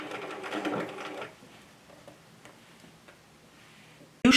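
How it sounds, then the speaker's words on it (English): A sewing machine stitches across a sleeve placket for Simplicity 1538, with a quick, close burst of rhythmic needle chatter for about a second, then fading to faint, scattered ticks and a sharp knock at the end. "Okay, so then we're going to just stitch across that."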